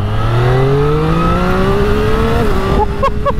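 A 2023 Triumph Street Triple 765 RS accelerating hard uphill, the engine note climbing steadily through the revs, loud and close with wind roar, then a quick shift and a couple of sharp blips near the end.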